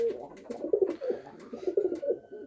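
Pigeons in a loft give a run of soft, throaty coos, repeated in close succession at moderate volume and close by.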